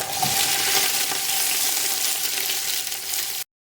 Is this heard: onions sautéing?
yes